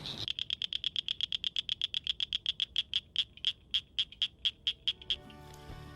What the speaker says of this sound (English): Both species sound like marbles tapping together, although the northern cricket frog's taps are slightly more rapid.